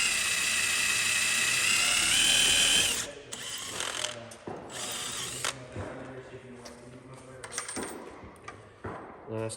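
A power drill bores with drill bits while fitting chicken lights and chrome on a Peterbilt 389: a loud high whine for a few seconds, then stops and brief restarts amid clicks and handling noise, with speech in the background.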